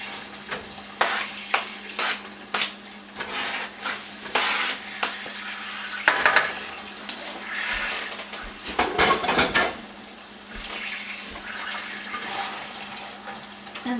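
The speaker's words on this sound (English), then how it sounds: "I'm just going to mix the onions all in. Get them all nice and coated with that butter" Onions fry in melted butter for Persian rice, a soft sizzle under repeated scraping and clinking as a spoon stirs them around the pan, with a few louder knocks.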